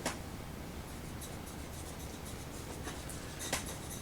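A chisel scrapes along a pencil lead to sharpen it, producing quiet, irregular scratchy strokes with a couple of sharper taps, close by and without speech.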